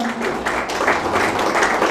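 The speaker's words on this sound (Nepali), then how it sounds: "आउनुहोस् हामी उहाँलाई जोरदार तालीका साथ स्वागत गरौँ" An audience in a television studio applauds to welcome a singer, a dense, steady wash of clapping close and continuous throughout.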